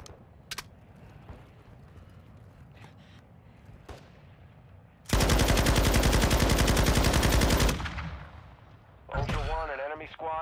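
Video game gunfire: a long, loud sustained burst of rapid automatic shots runs for a couple of seconds, with sporadic single cracks before it and radio chatter and voices around it.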